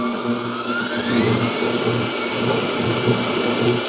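A Kitchen in the Box stand mixer creaming snickerdoodle blondie batter in a colored bowl, a loud, steady motor whir with a faint rhythmic churning, close and continuous with no talk.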